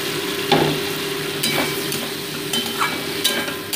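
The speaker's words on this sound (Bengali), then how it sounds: "এবার ভেজে রাখা কফি টুকরোগুলোকে অ্যাড করে দিচ্ছি" Boal fish and cauliflower pieces being stir-fried in a pan with smashed tomatoes give a soft continuous sizzle, broken by several scraping strokes of a spatula against the pan.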